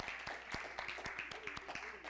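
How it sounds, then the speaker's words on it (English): An audience at a spiritual center service clapping to welcome a singer to the front, quick scattered hand claps close by under a faint background of voices. "clap your hands and bring her up"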